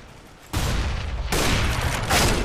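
Decoy grenade mimicking gunfire in Counter-Strike: Global Offensive, loud, close sustained shots running through the whole moment, rising into a second and a third heavier burst.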